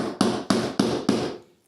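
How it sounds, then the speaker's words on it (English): Four sharp, evenly spaced hammer taps strike a nail into hard plywood subfloor, close and solid, each blow ringing briefly before the last one fades out. "my hammer to kind of pre-drill it because it's nice little hard plywood on here"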